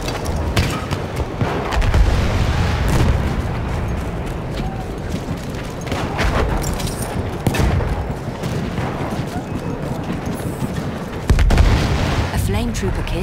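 Explosions and gunfire rumble through a Battlefield 1 multiplayer battle, with repeated booms and crackling shots layered over dense, noisy combat and game voice callouts.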